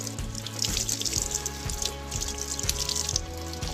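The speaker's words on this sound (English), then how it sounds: "So first you turn on the tap" A tap runs in a steady, close splashing stream into a sink, continuous throughout with no voices.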